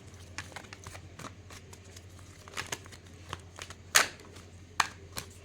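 Tarot cards are shuffled and handled quietly, with soft papery riffles and scattered crisp taps and flicks over a low steady hum.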